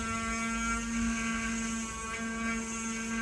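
A rotary engraving tool cutting into wood gives a steady high-pitched whir and hum, constant and close, with no speech.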